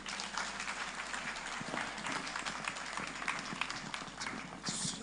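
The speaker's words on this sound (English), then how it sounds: "I'm sure we could do a lot better with the applause" Audience clapping at a memorial service of songs and tributes, a continuous patter of many hands heard from some distance, moderately faint and with no clear speech.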